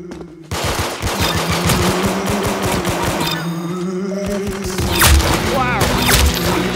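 Video game gunfire from the game Arsenal rattles out in rapid machine-gun bursts, loud and close, with heavier thumps and a voice talking partway through.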